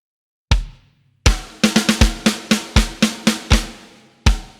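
Programmed drums in a TF2-themed song play alone: a single opening hit, then a pause, then a rapid run of sharp, punchy hits in an uneven rhythm, crisp and loud.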